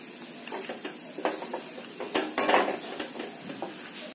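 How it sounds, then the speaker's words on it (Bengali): Besan mohanthal with seven or eight broken nuts scattered over it is stirred in a pan. A utensil scrapes and clinks against the metal in an uneven rhythm, close up and moderately quiet. "ভালো করে মিক্স করে নেব।"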